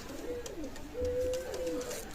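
A pair of Pakistani teddy pigeons from a loft coo nearby, giving a couple of soft, rolling, drawn-out calls with short pauses between them.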